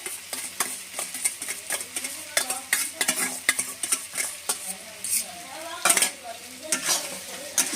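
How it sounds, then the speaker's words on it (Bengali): Whisked yogurt goes into a frying Kashmiri chilli masala for a Bengali jackfruit-and-prawn curry, giving a steady sizzle broken by repeated spoon scrapes and stirring clinks against the pan, close and fairly loud, with no talking. "এবার যে দইটা আমি ফেটে রেখেছিলাম সেই দইটাও দিয়ে দিচ্ছি"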